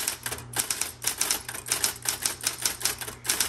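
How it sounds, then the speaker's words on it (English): Keys and spacing mechanisms of a 1970s manual typewriter clatter in quick, uneven bursts of sharp mechanical clicks and snaps, close and fairly loud, with no talking. "You've got your half space, regular space, power space, the margin release"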